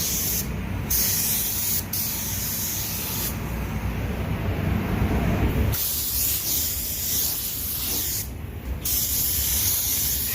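Compressed-air spray gun painting a car bumper at about 2 bar, a loud steady hiss running throughout with brief gaps and bursts as the trigger is released and pressed again.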